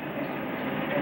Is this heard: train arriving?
yes